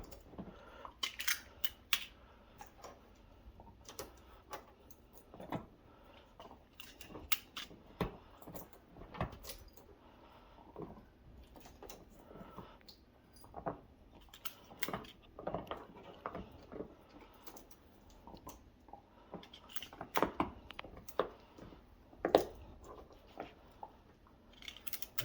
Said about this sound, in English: just start taping